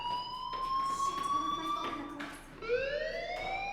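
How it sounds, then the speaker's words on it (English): Fire alarm ringing in the video game Life Is Strange, a pair of rising electronic wails that sweep upward, pause briefly and repeat. The tone is moderately loud with no voices over it. "Hey, do you hear that fire alarm?"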